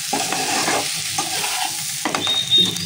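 Taro stolons being stirred and fried with spices in a pan, a loud close sizzle with bursts of spatula scraping and mixing, plus a brief thin squeak near the end.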